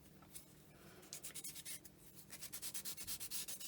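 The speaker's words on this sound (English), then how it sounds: "I'll just work through me different grits around the edges just to make sure it's nice and smooth" Sandpaper rubs along the edges of a small metal pendant in a faint, close, rhythmic back-and-forth scrubbing that becomes steadier and more regular toward the end, with no talk.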